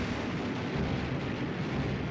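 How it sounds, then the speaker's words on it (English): Low, dense rumbling of naval gunfire and explosions at night near Savo Island off Guadalcanal, a continuous heavy booming wash with no distinct separate shots, steady and fairly loud throughout. "The men aboard USS Vincennes awake to gunfire and explosions."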